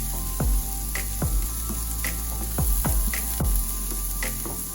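Onion and mixed vegetables for veggie rice sautéing in a pan, a continuous close sizzle broken by repeated knocking strokes of the stirring spoon against the pan.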